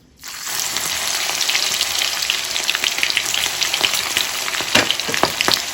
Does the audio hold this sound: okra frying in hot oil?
yes